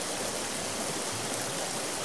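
Rain falls steadily in an animated folk-tale cartoon, a continuous broadband hiss with no breaks and no voices.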